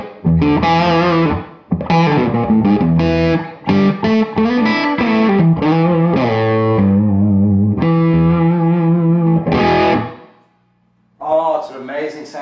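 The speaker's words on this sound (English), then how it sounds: "it's an amazing sound amplifier. Lewis Electric KR12 head and 212 cab." Electric guitar played through a Louis Electric KR12 amp head into a 2x12 cabinet, loud and sustained with overdriven chords and melodic phrases, a brief pause, then a final few strummed notes.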